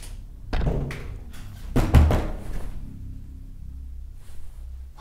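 Heavy thuds and bangs against walls in the horror video game Night Book, several irregular booming knocks close by, separated by short pauses with quiet low rumble between.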